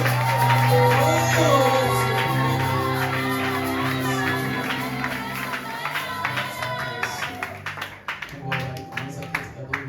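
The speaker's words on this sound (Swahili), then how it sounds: "Makofi mengi." A church congregation claps and cheers during a service, with loud crowd voices and sung tones fading into scattered applause and shouts.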